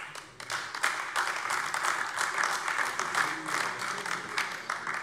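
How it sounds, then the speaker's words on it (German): Applause fills a plenary session of the Hessian state parliament, a dense, steady clapping from many members that carries on for several seconds at moderate loudness. "Applaus"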